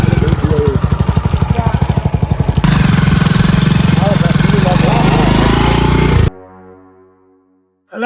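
A motorcycle engine runs steadily and loudly at close range, cutting off abruptly near the end and leaving a brief low fading hum before a short burst returns.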